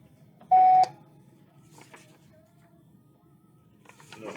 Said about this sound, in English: Please leave a message after the tone.